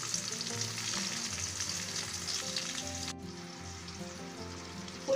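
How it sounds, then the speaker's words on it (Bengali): Chopped onion, garlic and green chillies fry in hot soybean oil in a wok with a steady close sizzle that drops a little after three seconds. No voices. "কড়াইতে পরিমাণ মতো সয়াবিন তেল দিয়ে দিচ্ছে, তেলটা গরম হয়ে গেছে, পেঁয়াজ কুচি, রসুন কুচি আর কাঁচামরিচ গুলো দিয়ে দিচ্ছে।"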